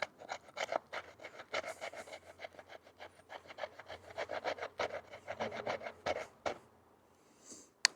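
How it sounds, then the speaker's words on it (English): A D2 steel survival knife scrapes across redwood in a rapid series of close, raspy strokes, steady and rhythmic for about six seconds, then slowing to a few isolated scrapes with no talking. "how well this does at scraping this redwood as well"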